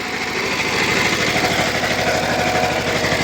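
A VST power tiller's engine chugs steadily and loudly close by, working in a banana plantation in a village, with a constant throbbing rumble and rattling vibration throughout and no talk.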